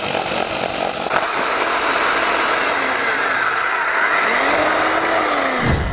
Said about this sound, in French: Bon, là, je perce en 26.